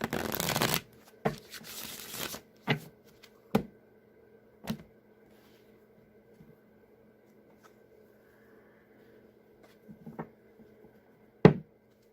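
Tarot cards shuffled in a quick riffle at the start, then a few scattered taps and soft snaps of cards being handled in a quiet room.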